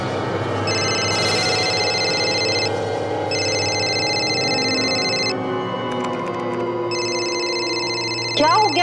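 A telephone rings unanswered indoors, three long bursts of high electronic trilling separated by pauses, steady and clear over a low hum.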